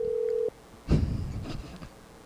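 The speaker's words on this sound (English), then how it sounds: "Let's call him. We got his phone number." Telephone tones as a call is placed: a steady single tone that cuts off, then after a short gap a burst of clicks and dial sounds, fairly quiet and with no talk over it.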